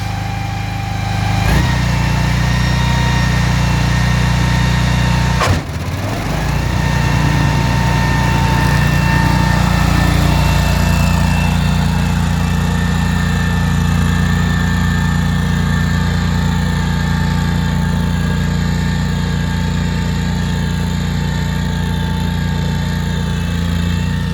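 A lawn mower engine runs loud and steady at full revs while cutting grass at its lowest height setting, with a brief dip and clunk early on before settling into a constant whirring drone.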